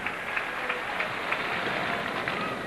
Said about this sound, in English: Listen to the crowd come to his aid